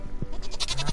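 A goat in the Stardew Valley video game bleats in a short, wavering cry, heard clearly and alone.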